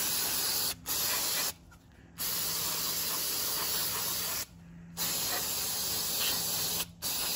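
Aerosol cleaner sprays onto the mass airflow sensor of a GMC Yukon in a long steady hiss, broken by brief pauses and a few short bursts, close and alone with no talk.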